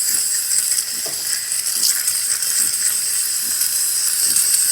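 Steady, loud hiss of steam jetting from a freshly descaled DeLonghi espresso machine wand, continuous and close, with faint low clicks and ticks underneath.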